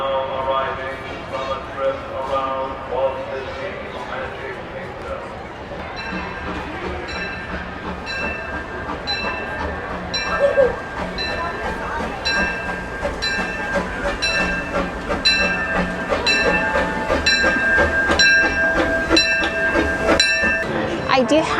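A Disneyland park train rumbles into a station with rhythmic clicking of wheels over rail joints, steady and fairly close, alongside faint crowd murmur.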